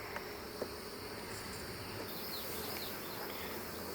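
Honey bees around swarming hives, a faint, steady outdoor buzz with a few higher insect tones, distant and continuous with no voices.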